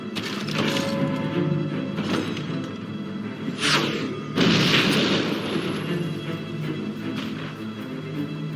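A mortar is destroyed in the video game Fable: loud booming blasts and crashes with shattering debris rumbling through a sustained battle din.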